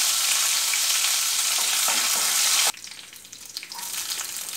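Curry leaves and fennel seeds hit hot oil for a mutton curry, giving a loud, steady, close sizzle that suddenly drops to a quieter, crackling fry partway through.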